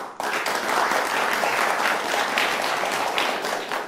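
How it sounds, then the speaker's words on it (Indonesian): An audience applauds Kang Ferry at a live Indonesian media broadcast event: a dense, even wash of clapping that starts sharply and stays loud and continuous throughout, with no voices over it. "Tepuk tangan buat Kang Ferry"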